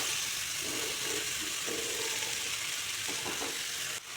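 Salted hilsa fish and ash gourd fry in a pan with a loud, dense, steady sizzle and a few soft stirring sounds, ending in a sharp clatter.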